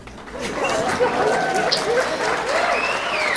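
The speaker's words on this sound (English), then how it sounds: "Clap it up, clap it up, clap it up" A comedy club crowd claps steadily throughout, with voices chattering and calling out over the applause.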